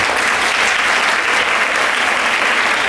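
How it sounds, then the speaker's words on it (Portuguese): An audience at a talk on curriculum and teaching practice applauds to welcome a speaker, a loud, dense, steady clapping from many hands that carries evenly throughout. "Solange, a Solange Utuari, vamos recebê-la também com palmas."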